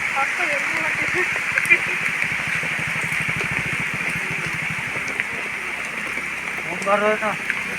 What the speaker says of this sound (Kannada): ಇದು ಭಾಳ ಐತೆ ಮಳೆ ಇದು ನೋಡ್ಬೇಕು